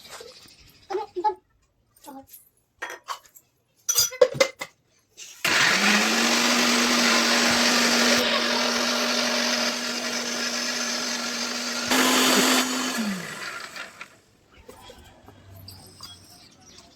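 Scattered clicks and knocks lead into a mixer grinder whirring through henna leaves and a little water, a loud steady motor drone for several seconds that swells briefly near the end before winding down, followed by faint handling sounds.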